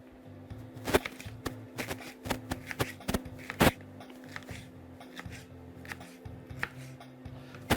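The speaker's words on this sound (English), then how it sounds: "I'm actually going to cut those in half" A knife chops peppers in half on a cutting board in a home kitchen, giving a run of sharp, close knocks at an irregular rhythm over a steady low hum.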